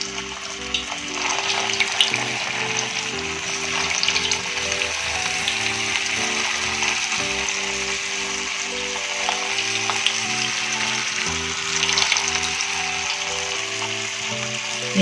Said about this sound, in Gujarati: હવે આની અંદર આપણે બીજા બોલ નાખીને આપણે એને ફ્રાય કરી લઈશું.